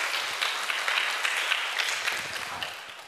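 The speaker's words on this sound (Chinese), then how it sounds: "来给他掌声鼓励一下" An indoor audience at a Buddhist Dharma talk applauds a participant with a brief burst of dense, even clapping that fades slightly toward the end.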